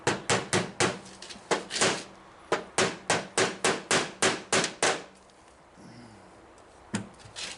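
A run of sharp metallic taps strikes a drag car part to knock it loose, about a dozen quick, evenly spaced blows nearby, then a pause and a couple more hits.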